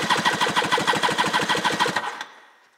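A 1990 Yamaha Waverunner LX 650 engine, model 6M6, cranks over on the starter for a compression test, a steady rhythmic chugging of about twenty even pulses that stops abruptly and trails off into quiet.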